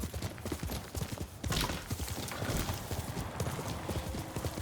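A horse gallops in the samurai video game Ghost of Tsushima, its hooves pounding in a steady, rapid clip-clop rhythm that sounds close and loud and carries on throughout.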